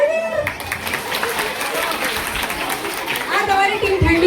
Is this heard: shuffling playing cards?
no